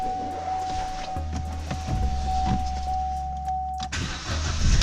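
A Vauxhall Corsa with an intermittent no-start fault cranks over with a steady electric whine and mechanical whir. The engine then catches and settles into a louder, rough running rumble, close up.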